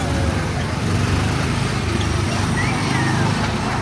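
Small Disneyland Autopia ride car engines give off a steady, close, loud droning rumble with wind and road noise throughout, and a voice is partly masked beneath it.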